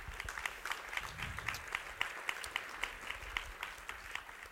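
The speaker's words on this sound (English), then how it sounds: "I'd like to get a quick round of applause for these 16 or so people that helped us out." Sparse, light applause from an audience at the Gov 2.0 Expo Showcase, individual claps distinct and fairly steady over low room rumble and faint crowd murmur.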